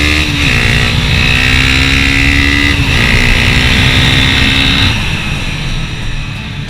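A Honda CBR 250 R motorcycle engine accelerates loudly and close by, its pitch climbing steadily through two gear shifts before easing off at the end, with wind noise underneath.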